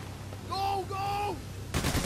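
Gunfire in the Payday: The Heist video game, where a short burst of sharp shots breaks out at the end, following tonal, voice-like sounds over a low background hum.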